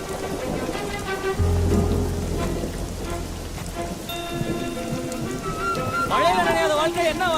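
Steady rain pouring down outdoors, a dense continuous hiss under people talking, with a low rumble and snatches of music partway through.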